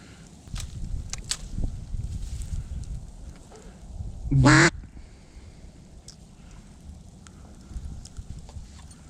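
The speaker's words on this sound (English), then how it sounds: "And I hear some quacking a ways away." A duck quacks once in a short, clear burst partway through, set against a quiet outdoor marsh background during a duck hunt, with faint scattered clicks and rustles around it.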